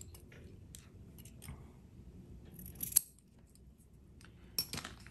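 A few quiet, crisp scissor snips trimming cotton wick to the deck of a Hellvape Fat Rabbit RTA, heard up close with soft handling noise between the cuts.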